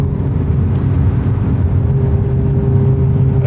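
A tuned five-cylinder VW Golf 7 R pulls hard with a loud, steady engine drone close by, its tone holding through acceleration in a gear with no clear break for a shift.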